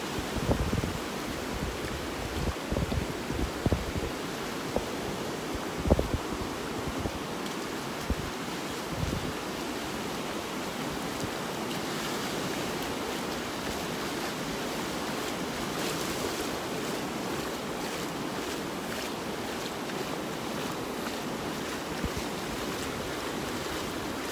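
Ocean waves wash onto a beach in North Naples, Florida, a continuous surf roar with wind, steady throughout and a few faint thumps early on.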